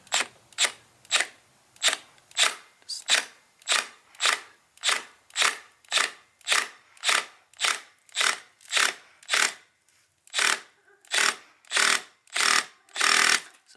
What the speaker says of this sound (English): I'm going to go to the next strength on my drill.